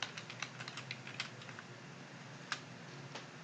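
Fingers type on a computer keyboard at a desk with quick, uneven bursts of light key clicks, then a pause and a few scattered taps, faint and close in a quiet room.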